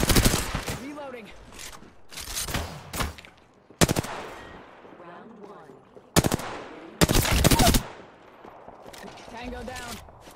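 Bursts of automatic gunfire from the Apex Legends video game crack out loudly in several rapid volleys, separated by gaps where game voice lines and other effects play.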